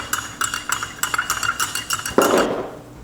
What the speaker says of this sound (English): you want to mix it all together